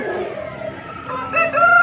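A rooster at a busy rooster market lets out a short, strained crow, close and loud, with other fowl calling faintly around it.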